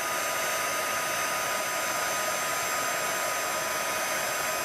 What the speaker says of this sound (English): I've got the heat tool on the high setting.